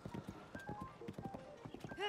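Epona the horse galloping in the Zelda: Tears of the Kingdom video game: steady rhythmic hoof clip-clop with a whinny near the end, heard under continuous talking and game music.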